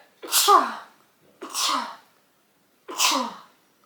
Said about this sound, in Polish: dziwnym by było, gdybym nie kichnęła na vlogu